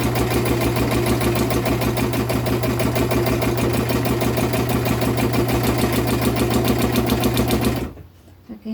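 Home sewing machine fitted with a free-hand sewing foot, stitching in a steady rapid mechanical rhythm with a constant motor hum, close and loud, then stopping abruptly near the end.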